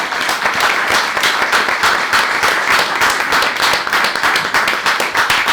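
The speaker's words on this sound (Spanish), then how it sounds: "un aplauso por favor" Audience at a live conversation event applauding steadily, a dense, close patter of many hands clapping that fills the whole stretch with little talk.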